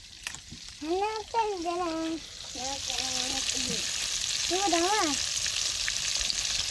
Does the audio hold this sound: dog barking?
no